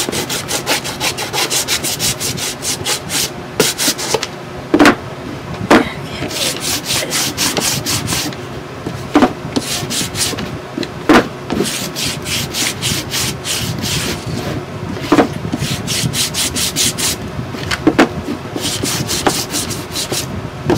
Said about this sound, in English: my sandpaper's getting kind of built up again.